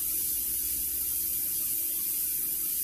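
Airbrush sprays black paint thinned with a few drops of reducer, giving a faint, steady hiss of air over a low background hum, continuous and uninterrupted with no speech.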